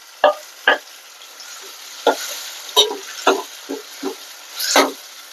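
Tomatoes stirred and sautéed in a pan with onions, heard as a series of distinct scraping, sizzling stirs spaced irregularly, fairly close, with no talking.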